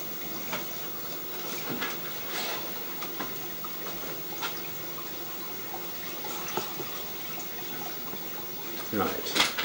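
Water from both hot and cold taps runs into a drain, a faint, steady rushing hiss with small splashes, heard at a distance under light background noise.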